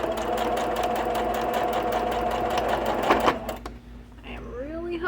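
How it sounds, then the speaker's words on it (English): A sewing machine stitches a sunglasses case in a fast, steady close-up whir that stops abruptly after about three seconds, followed by a person speaking. "we'll come back to the sewing machine and finish it"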